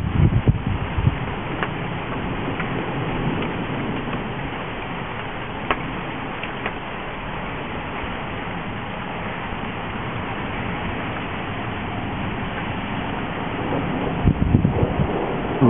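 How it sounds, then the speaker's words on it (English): Wind during a lightning storm buffets the microphone in a continuous rough roar, rising slightly near the end, with no voices. "Wind is changing."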